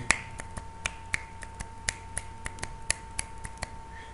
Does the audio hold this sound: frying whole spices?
no